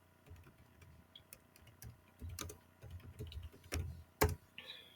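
Keys clatter on a computer keyboard while an education-themed channel banner is being set up in Canva, in quiet bursts of taps with short pauses, up close and with no talking.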